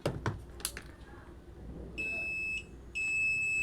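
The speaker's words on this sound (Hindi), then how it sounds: "कंटिन्यूटी का भी आवाज़ बहुत ही अच्छा है, बीप का आवाज़ बहुत ही तेज़ है।" Two high, piercing electronic continuity beeps from an HTC CM-2016 DC clamp meter, each lasting about half a second, after a few soft clicks and handling noises.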